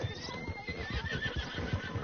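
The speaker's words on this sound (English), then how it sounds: "You're quite the horse." A horse whinnying in the Red Dead Redemption II video game, a close neigh over soft shuffling hoof clip-clop and low ambient rumble.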